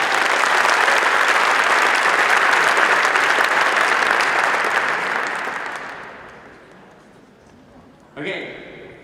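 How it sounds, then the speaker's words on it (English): Audience applause at a startup funding event in Rotterdam, a dense sustained round of clapping that fades out over several seconds, followed by a brief voice. "A hand of applause for Oslo."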